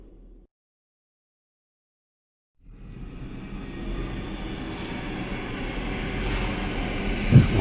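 A train ride in the horror video game Daymare: 1994: after a brief silence, a low rumbling rolling noise fades in and grows steadily louder and fuller, with no one talking.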